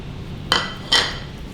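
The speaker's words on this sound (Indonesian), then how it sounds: "Kita aduk." A spoon clinks twice against a bowl while garlic paste, salt, stock powder and ground coriander are mixed together, two bright separate knocks with quiet room tone in between.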